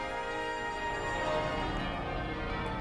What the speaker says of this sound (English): What a wonderful sound, those bells.